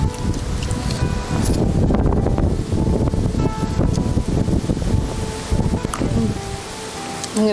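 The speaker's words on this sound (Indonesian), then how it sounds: "Anginnya kencang." Strong wind blows outdoors in a steady, roaring gust that fills the whole stretch, with rustling and buffeting noise throughout.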